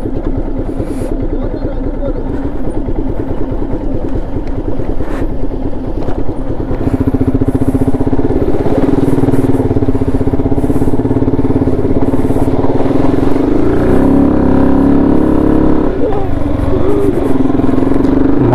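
A motorcycle rides over a rough, broken rural road in Tamil Nadu, its engine droning loud and close throughout, with clattering from the bumpy surface and a shift in engine tone partway through.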